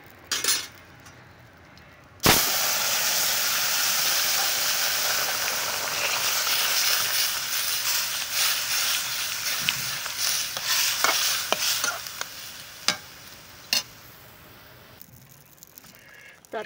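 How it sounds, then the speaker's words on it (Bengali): Spices tempered in hot oil for a vegetable curry, bursting into a loud steady sizzle after a sharp hiss, with a few spoon clinks and stirring scrapes near the end. "ফোড়ন দিয়ে দেবো বন্ধুরা তরকারিটা"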